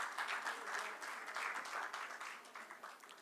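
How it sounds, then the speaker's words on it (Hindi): Audience applause welcoming poet Someshwar Pandey onto the stage at a Hindi poetry reading, moderately distant clapping that swells and continues steadily. "एक बार जोरदार तालियों के स्वागत कीजिए सोमेश्वर पांडे जी का।"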